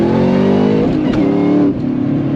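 A 2003 Ford SVT Cobra engine revs hard through a T56 Magnum manual transmission, a loud, steady roar close by that dips briefly in pitch mid-shift before climbing again, with no talking.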